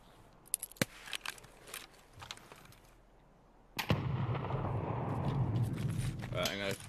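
Video game grenade explosions: scattered gunfire pops come first, then a sudden heavy blast at about four seconds settles into a loud rumbling roar that carries on to the end.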